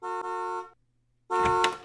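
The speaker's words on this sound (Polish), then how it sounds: "Kto tak trąbi?" Two car horn honks, a long steady blast followed by a short pause and a second honk, loud and nearby.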